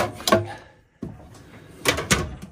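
A mobile mechanic's toolbox cabinet door opens with a few sharp knocks and clatters, close and fairly loud, separated by a brief quiet gap.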